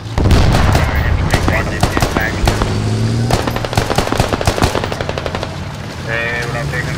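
Rapid machine-gun fire and single shots in the video game Battlefield, with Russian forces fighting British in squad play, loud and close, in dense rattling bursts that thin into separate cracks while players talk.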